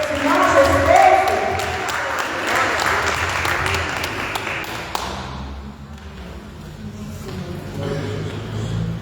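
A church congregation claps during a Portuguese-language worship service, a dense burst of applause for about five seconds that then thins out, mixed with crowd murmur and a voice speaking.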